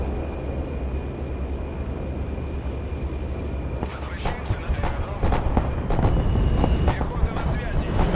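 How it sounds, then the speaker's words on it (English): Airstrike bombing explosions from the Broken Arrow war game, starting midway as a rolling run of loud, heavy booms over a steady rumbling engine drone. "And I guess we can just bomb"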